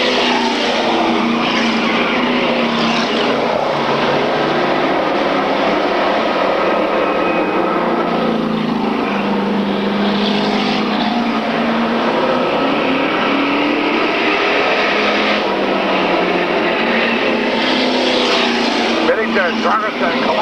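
Race cars from a 1995 oval-track event roar steadily through the whole stretch, a continuous loud engine drone rising and falling as the pack passes, with an announcer calling the race over it.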